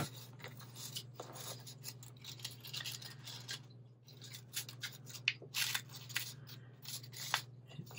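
Scissors trim one-sided paper for a circle pocket craft with a run of quick, crisp, close snips and rustles over a faint steady hum, quiet and without talk.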